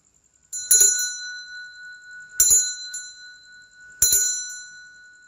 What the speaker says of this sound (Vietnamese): Tiếng chuông có tác dụng gọi hồn rất là tốt nha các bạn.